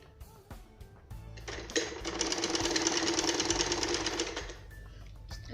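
A sewing machine stitches blouse belt panels in a fast, steady mechanical rattle lasting about three seconds, clear and close, with soft handling noises before and after.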